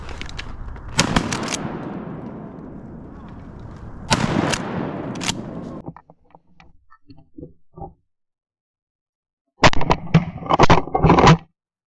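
Shotgun blasts at ducks during a hunt in flooded Arkansas timber, several loud, sharp reports with long echoing tails, followed by brief quieter sounds and a final cluster of close shots.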